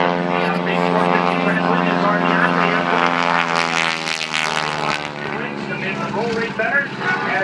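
A highly modified vintage biplane's propeller engine drones loudly and steadily overhead during an aerobatic show turnaround, its pitch shifting slightly as it passes, with a voice talking underneath.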